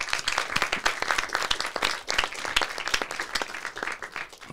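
A small audience at a casual show claps warmly, individual hand claps clearly audible in an uneven, fairly close rhythm that swells and dips throughout.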